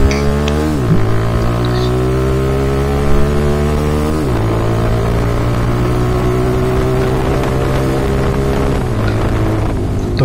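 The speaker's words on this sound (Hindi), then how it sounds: "तो आवाज़ काफ़ी ज़्यादा लाउड है इस बाइक की" A motorbike fitted with a loud Austin Racing aftermarket exhaust revs out on a road, the engine note climbing and dropping through several rises, very loud and close with no talking.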